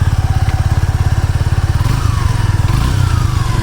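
Pulsing exhaust of a Suzuki V-Strom SX 250 motorcycle, loud and close, throbs evenly, then its pitch lifts slightly as the throttle is blipped.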